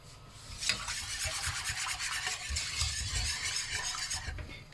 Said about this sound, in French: on va pas s'arrêter de mélanger jusqu'à ébullition, jusqu'à ce que notre préparation elle épaississe